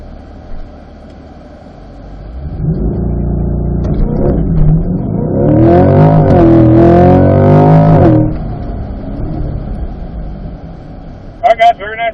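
A Corvette launching under launch control at an owners' driving school, engine building from a steady rumble into a loud full-throttle surge that holds for several seconds, then fades as it pulls away; voices are heard around it.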